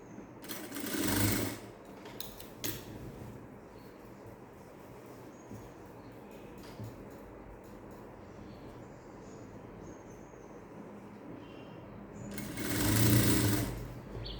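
Sewing machine stitching a blouse sleeve to the shoulder seam, a quiet continuous whirring hum with two louder bursts near the start and end, no talk.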